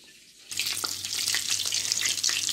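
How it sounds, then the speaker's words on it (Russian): Cutlets fry in a pan, the sizzle bursting in suddenly after a quiet half-second and then holding as a steady close crackle with faint spits and a low hum underneath. "А я тем временем жарю котлетки."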